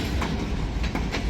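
A long freight train of center beam cars rumbles past up close, steady and loud, with rhythmic clickety-clack of wheels over rail joints.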